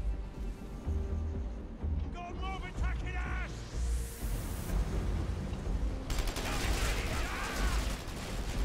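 Shooter units fire in the strategy game Dawn of War 3 as distant battle gunfire crackles in scattered bursts with mechanical clatter, kept fairly low in the mix under a steady backdrop and some voice.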